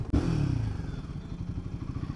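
A Royal Enfield Himalayan 450 motorcycle engine runs with a steady, close, low rhythmic throb and a brief thump at the start.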